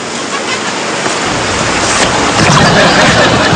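A river rushes steadily nearby, its broad water noise loud and unbroken throughout, with no talking over it.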